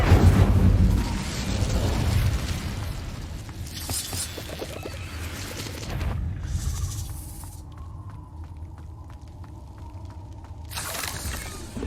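Incendio fire spell in Hogwarts Legacy erupting in a loud, rumbling burst with crackling and shattering, then fading into quieter clicking and a faint tone before another surge.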